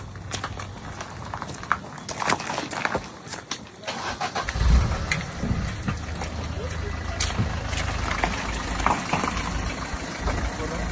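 A car engine revs and strains continuously, failing to climb a badly damaged Hiranyakeshi road flooded where a stream runs over it, amid splashing and rough noise, with voices talking over it at times.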